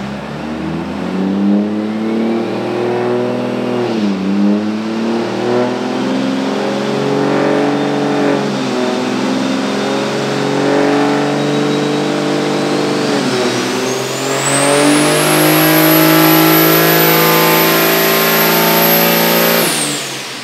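Big-turbo car engine on a dyno, loud and close, revving repeatedly through rising and falling sweeps before a long sustained high-rpm pull with a rising turbo whine that cuts off sharply at the end.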